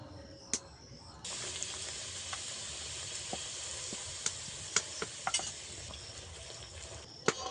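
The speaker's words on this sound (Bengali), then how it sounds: "একে একে আমি এতগুলো লুচি ভেজে নিয়েছি।" Luchi, a puffed flatbread, fries in hot oil. The sizzle starts quiet, then rises to a steady loud hiss, with sharp pops and crackles at irregular moments and no voices.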